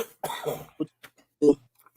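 A man coughs in a few short, close bursts, with a throat-clearing sound and brief pauses between the coughs.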